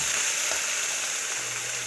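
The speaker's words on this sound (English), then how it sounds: "of the sizzling of my meat." Chicken sizzles loudly and steadily in a hot pan for a teriyaki stir-fry, a constant bright hiss with no voices.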